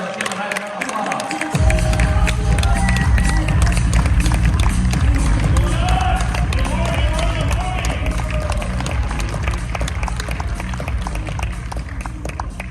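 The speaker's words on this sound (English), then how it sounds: "Let's give him a nice round of applause." A live audience at a networking event bursts into loud, sustained applause mixed with cheering and crowd noise after a short quiet lead-in, continuing steadily as the next speaker is brought up.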